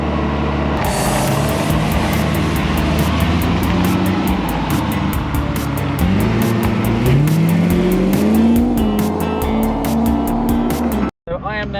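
Mercedes-Benz 600SL on the move, a loud, continuous engine and road roar heard from inside the car, with the engine pitch rising and falling as it accelerates and shifts, before cutting off near the end.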